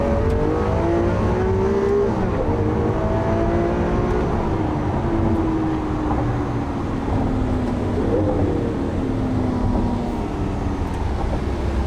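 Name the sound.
car accelerating in sport mode with fast gear shifts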